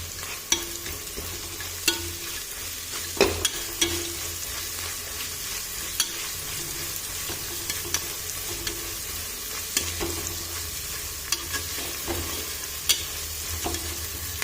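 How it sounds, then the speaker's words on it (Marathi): Garlic frying with cooked onion in a pan, a constant moderate sizzle with regular sharp clicks of a spoon stirring against the metal. "आपला कांदा शिजलेला आहे, आता लसूण टाकलेला आहे मी"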